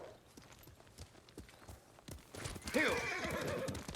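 A horse in the video game Ghost of Tsushima: Director's Cut whinnies loudly in the second half, following a steady clip-clop of hooves that runs throughout.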